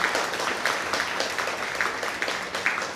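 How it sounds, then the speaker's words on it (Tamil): Applause from a large audience at a Tamil comedy debate speech, a steady dense patter of many hands clapping throughout with no voices over it. "நல்ல கைத்தட்டுங்க."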